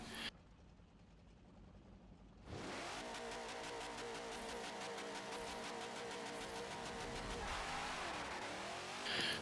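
A stock Twin Mill racing in Forza Motorsport 7, the engine leaping to a loud, strained roar after a quiet start and holding a steady high rev with pulsing gear-like undertones, ending in a rising whoosh.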